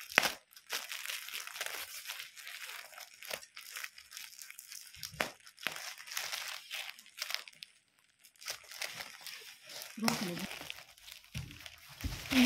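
Crinkly plastic packaging rustles and crackles in irregular bursts as a suit is unfolded from it, close by, with someone talking over much of it.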